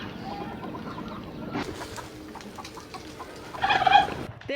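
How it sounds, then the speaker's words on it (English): A turkey calls from somewhere nearby in a remote mountain village in China, with short gobbling and clucking bursts standing out near the end over a low background murmur of rural ambience. "There is a turkey in there."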